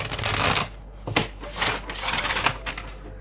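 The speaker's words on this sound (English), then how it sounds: "This deck is so big and it takes a long time to shuffle" A large tarot deck is shuffled by hand in several close, papery riffling bursts with brief pauses between them, set against a steady low background hum.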